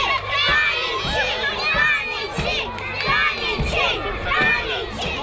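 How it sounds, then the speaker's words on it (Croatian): Children cheer loudly for friends playing football, their shouts and excited voices blending into a continuous youthful crowd roar with repeated rising calls. "Mi smo navijači, mi navijamo za svoje prijatelje"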